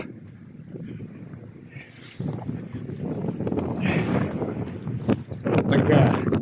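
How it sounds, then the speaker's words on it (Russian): Strong wind gusting over a lake in a Belarusian village, a steady rushing roar with hiss and rumbling buffets against the microphone that swell louder in the second half. "ветер будет свистеть."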